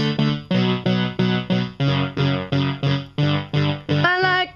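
Piano left hand playing a steady repeated chord pattern in even, bouncy pulses for the intro of a song, with a brief higher flourish at the end; no talking.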